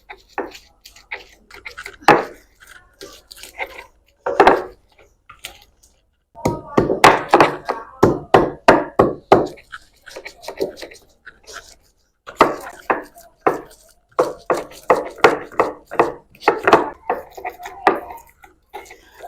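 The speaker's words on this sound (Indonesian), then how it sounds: "sekarang kita ulek bumbunya ya" Spices are ground in a stone mortar and pestle (ulekan) in bursts of close, rhythmic knocking and pounding strokes, broken by short pauses.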